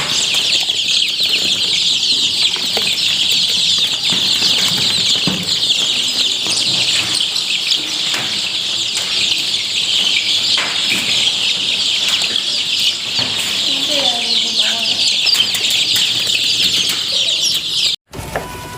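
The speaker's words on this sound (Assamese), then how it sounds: "এইবোৰ মোৰ লোকেল চৰি মুৰ্গী ভেকচিন হৈছে, বৰিং কৰাইছে।" Local chickens and chicks in a brooder fill the space with a dense, continuous chorus of high cheeping, with occasional wing flutters and scratching underneath.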